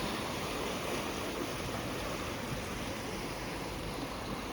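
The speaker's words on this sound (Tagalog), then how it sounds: "nakakatakot yung alon kasi ang lakas ng hampas niya" Strong ocean surf at Playa Nanin beach in Sanxenxo, Pontevedra gives a constant loud wash of breaking waves and rushing water with no pauses or voices.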